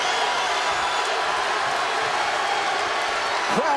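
A steady, loud roar from a boxing crowd urging on Kelly Pavlik carries unbroken through the whole stretch, with a brief sharp sound near the end.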